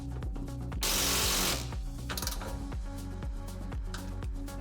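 A coilover's bottom bolt is driven down with a ratcheting power tool on a Honda GD3 Fit, a fast rhythmic mechanical whirring with repeated clicking pulses and a brief louder burst of noise partway through.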